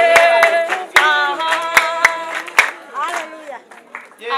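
Wedding guests applauding, a burst of claps around strong singing and speaking voices, close and lively, the clapping fading out near the end.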